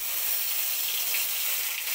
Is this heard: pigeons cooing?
no